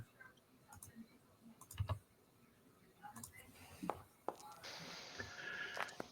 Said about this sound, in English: I hear some dice rolling